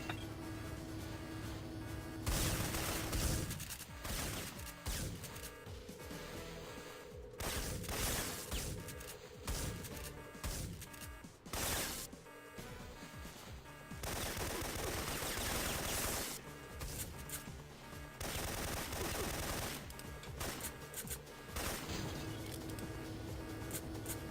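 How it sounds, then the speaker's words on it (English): Rapid gunfire from the Syphon Filter video game on PS1, dense bursts and sustained automatic fire that stop and start in loud, continuous stretches with brief pauses between volleys. "Gabe, check your fire."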